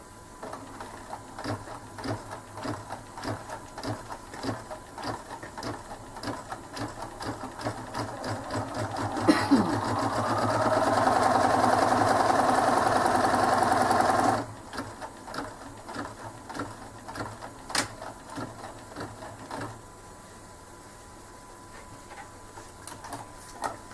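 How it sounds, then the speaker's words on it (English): A sewing machine stitches fabric for a tissue holder: short chattering runs of needle ticks, then one longer continuous whirring stitch run, then more brief ticking bursts, close and clear with no voices. "move across and you stitch the second side down"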